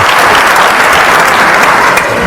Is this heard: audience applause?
yes